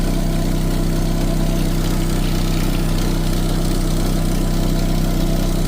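A car engine idles steadily with exhaust escaping from a pinhole in the muffler of a Pontiac Sunbird, giving a continuous, even low rumble and hiss close by with no talking.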